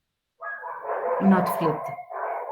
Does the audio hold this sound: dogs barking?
yes